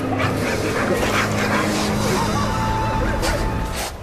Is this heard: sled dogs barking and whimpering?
yes